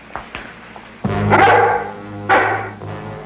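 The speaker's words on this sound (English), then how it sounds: "That dog." A guard dog barks at a seaside nightclub, with a few faint yips followed by two loud, close, harsh barks, each trailing off into a whine.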